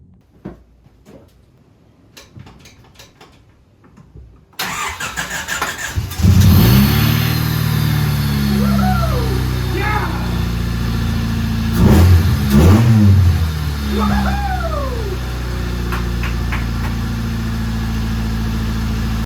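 A Honda Civic EG engine, rebuilt from junkyard parts, cranks briefly before catching on the first try, then rumbles at a loud, close idle punctuated by several sharp revs rising and falling.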